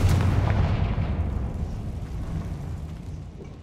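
A Confringo blasting spell goes off in a Harry Potter video game, a loud booming explosion that rumbles strongest at the start and then decays into a low, rolling roar.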